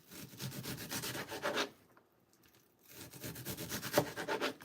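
An onion being diced with a knife on a cutting board for soup: rapid, close rhythmic chopping strokes in two bursts separated by a short quiet pause.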